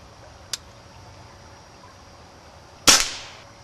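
Two shots from a shooting game: a faint sharp crack first, then a couple of seconds later a much louder, close crack with a short hissing decay, and quiet in between.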